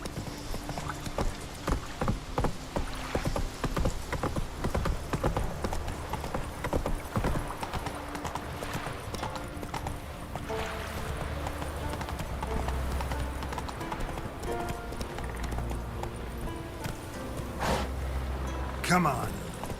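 Roach the horse clip-clops steadily in The Witcher 3, a near, continuous rhythmic hoof beat running under game music and an occasional voice.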